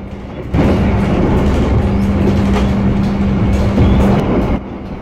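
Argo Lawu passenger train from Solo to Jakarta running at speed on rails, a loud, steady rumble with a sustained low hum and faint rhythmic clatter, heard from inside the carriage.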